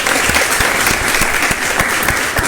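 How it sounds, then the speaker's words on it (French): A studio audience claps for technical staff during a live midday broadcast, a continuous burst of close, even applause with crisp individual claps throughout. "Merci de les applaudir, s'il vous plaît."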